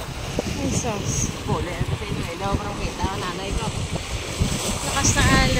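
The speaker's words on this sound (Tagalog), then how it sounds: "Lakas na alon, grabe." Strong waves on Taal Lake wash continuously against the baywalk shore, a dense roaring surge under gusty wind buffeting the microphone, with a person talking over the water throughout.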